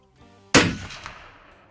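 A single loud, close gunshot from a deer hunt cracks out and decays with a short echo, preceded by a faint quiet stretch.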